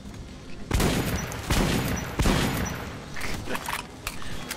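Rapid bursts of gunfire ring out at a shooting range in the Metro Last Light video game, loud and dense, the volleys overlapping with a booming tail and no voices over them.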